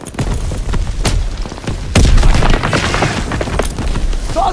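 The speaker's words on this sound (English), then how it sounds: "Throw the grenade!" Booming blasts and bursts of gunfire from a Call of Duty WWII battle on Normandy beach, a grenade explosion among them, loud and dense throughout with a heavier thump about midway.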